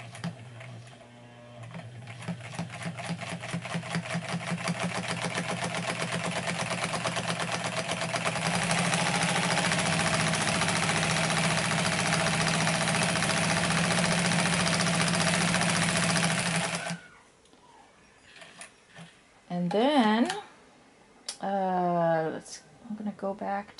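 A circa-1953 Singer 306W sewing machine runs fast for about seventeen seconds, a steady close mechanical whir and rapid needle chatter, then stops and a voice speaks over the quiet.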